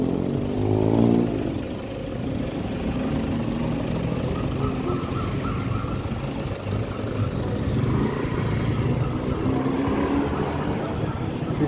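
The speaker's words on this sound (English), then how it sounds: "It's a rush hour traffic jam." Rush hour traffic on a Bangkok street with tuk-tuks around, a dense steady din of engines and motorbikes close by, one revving engine rising near the start, with voices faintly mixed in.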